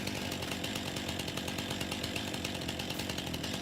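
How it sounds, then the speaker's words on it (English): A chainsaw in Farming Simulator 19 runs steadily and loudly, buzzing throughout with a dense, continuous whine and no pauses. "Let's get our chainsaw out."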